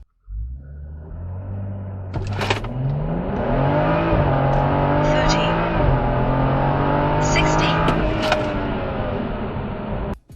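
Stage 2 tuned BMW M235i accelerating hard from a standstill to 60 mph, a steady rising engine drone with gear-shift steps, close and loud with wind and road noise throughout.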